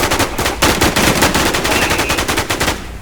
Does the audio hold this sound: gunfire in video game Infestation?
yes